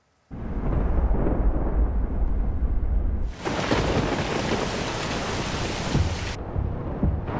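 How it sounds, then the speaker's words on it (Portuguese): Heavy storm rain pours down with a deep rumble of thunder, loud and steady throughout, growing harsher and hissier midway before easing slightly near the end; no voices. "Olha aí a chuva, ó."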